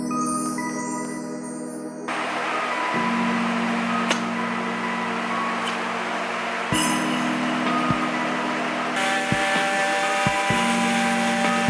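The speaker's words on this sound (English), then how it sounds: "I cut out a pipe at the right size" A pipe being cut to size for a vehicle frame with a power tool, a steady loud mechanical whine and grinding hum that shifts pitch in several stretches, with occasional sharp clicks and knocks.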